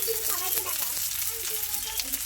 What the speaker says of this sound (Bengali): এটাকেও নেড়ে চেড়ে সুন্দরভাবে নিতে হবে।